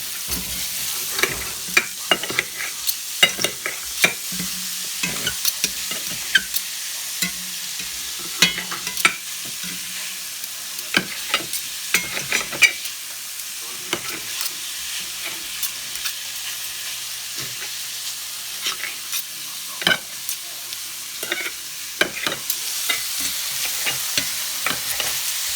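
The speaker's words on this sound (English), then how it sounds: "Can you just stir those around?" Food sizzles and fries in a pan while a utensil stirs it, with frequent sharp scraping clicks over a steady close hiss and no talking.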